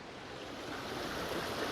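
Fresh water slides down off rocks in a small gully near a hidden waterfall, a steady broadband rush that holds constant and close throughout, with no voices.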